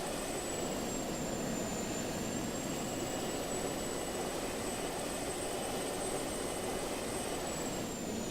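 An airplane engine drones in the Just Cause 2 video game, a loud continuous roar with a steady high whine running through all of it, close and unbroken, with no talk.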